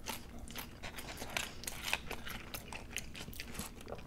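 Close chewing of a slightly soggy Taco Bell crunchy taco, soft crunches and crackles in an irregular rhythm with a few sharper bites standing out, heard near and fairly quiet.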